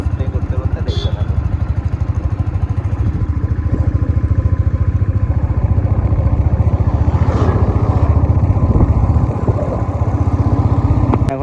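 A motorcycle engine runs steadily nearby with an even, throbbing idle-like putter that continues throughout, with occasional faint clatter and background sounds.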